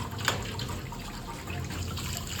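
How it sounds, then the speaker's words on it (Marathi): Crab claws are rinsed by hand in water, giving a soft continuous sloshing and trickling with a light splash near the start, close and fairly quiet, with no voices. "नांगे पण व्यवस्थित असे धुवून घ्यायचे"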